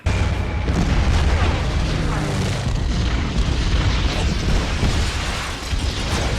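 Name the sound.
bombing raid explosions from a film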